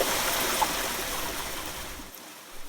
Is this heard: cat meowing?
no